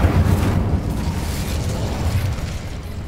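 Incendio fire spell cast in Hogwarts Legacy, a loud booming whoosh of flame with a low rolling rumble that continues throughout, no voices.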